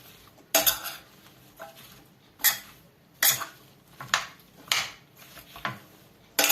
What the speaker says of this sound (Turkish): fasulyemi şöyle bir harmanlayacağım. Domatesiyle karışsın.